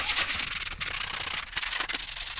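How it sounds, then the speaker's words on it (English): Sandpaper scuffs the PVC hull of an Intex Challenger inflatable kayak to prepare it for epoxy, a close, steady rasping rub in quick back-and-forth strokes with brief pauses, heard alone. "The first job is just to kind of scuff up this to give it some purchase. So I'm just going to sand this"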